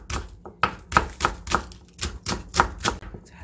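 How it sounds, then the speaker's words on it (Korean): A knife slices a halved green onion on a cutting board, a quick run of about a dozen crisp, evenly spaced chops close up with no talking. "대파 절반도 이렇게 딱 절반 갈라서 송송 썰어놓고"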